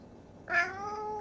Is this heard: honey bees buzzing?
no